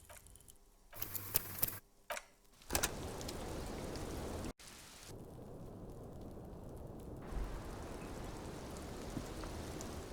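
Rain falling in the video game Disco Elysium, a steady hiss of downpour that runs through most of the stretch, broken by a few brief cuts and shifts in loudness early on.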